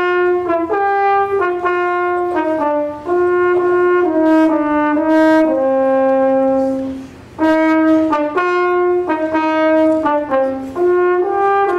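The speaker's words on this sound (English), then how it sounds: "I'd like to introduce Sarah, who will now play something for us on her horn" A French horn plays a lively solo melody alone, with a series of distinct sustained and detached notes moving up and down in the middle register, close and clear with a brief pause midway.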